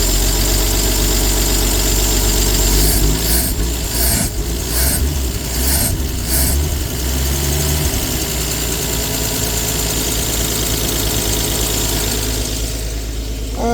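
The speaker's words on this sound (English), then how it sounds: "Let's see what happens when I give it a little gas." The 70-year-old engine of a 1954 Chevrolet Bel Air runs loudly up close, a rough, rumbling idle that rises briefly as gas is given, with no talking.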